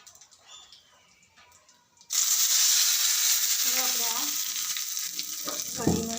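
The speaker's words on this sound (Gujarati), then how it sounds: "હવે આ વઘાર કઢીમાં નાખી દઈશું" Hot vaghar (spiced oil tempering with curry leaves) hits kadhi and erupts into a loud, sustained sizzle after a quieter start, steady crackling frying with a voice speaking over it near the end.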